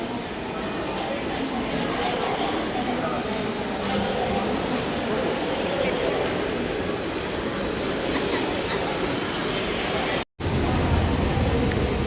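Inside a Kochi Metro train riding from Town Hall, a loud, steady rumble and rattle fills the carriage without letup, broken only by one brief dropout near the end.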